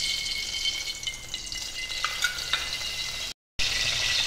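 Two spoonfuls of cooking oil sizzle and crackle in a hot kadhai while dry chicken is being prepared, a continuous close bright fizz with a few sharper pops, briefly interrupted by a short gap of silence near the end.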